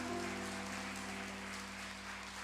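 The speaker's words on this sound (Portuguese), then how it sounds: "Se você crê, pode aplaudir para valer. Aplaude com força, com coragem," A church congregation applauding during a sermon, faint and distant clapping blended into a continuous wash over a low steady hum, with no one speaking.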